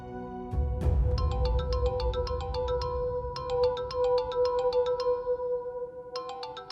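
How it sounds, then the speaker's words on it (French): A phone ringtone plays in repeated bursts of bright, rhythmic chiming notes over a steady tone, fairly loud and close, with a short pause between bursts and a low thump near the start. "Décroche le téléphone."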